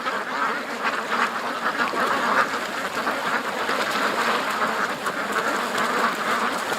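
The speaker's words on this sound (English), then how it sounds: "The ducks aren't a big fan of Doug swimming with them, though." A flock of ducks quacks loudly and continuously nearby while a dog named Doug swims among them, the calls overlapping in a dense, agitated chorus over splashing water.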